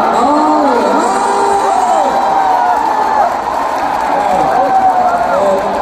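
Crowd noise from a concert audience, a dense wash of cheering, whoops and clapping that swells and stays loud throughout, with a voice shouting over it.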